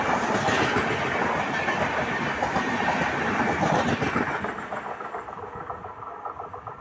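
Mourya Express passenger train rolling over the rails toward Sonpur Junction, a loud rumbling clatter with rhythmic wheel clicks that gradually eases and quiets in the final seconds as it slows.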